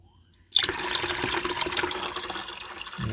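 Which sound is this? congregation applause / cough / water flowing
water flowing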